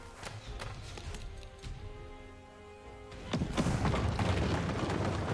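Deep booming cannon blasts and crashes from an Age of Empires IV battle, with a heavier burst of impacts in the second half over a steady low rumble.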